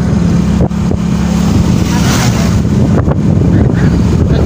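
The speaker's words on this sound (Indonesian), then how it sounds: "mengendarai motor." Riding a motorcycle on a mountain road near Ambarawa, loud steady wind buffeting the microphone with the engine droning underneath, close and constant.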